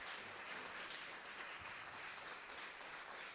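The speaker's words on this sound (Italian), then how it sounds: "vi invito qui per prendere l'ultimo applauso corale" Closing round of applause from the audience at a community round-table event, a faint, even wash of many hands clapping at a distance, continuous throughout.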